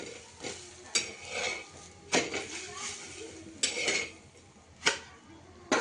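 Poha thalipeeth lifted from the pan onto a dish, with a series of sharp metallic scrapes and clinks of a spatula spaced a second or so apart over a faint sizzle, close by.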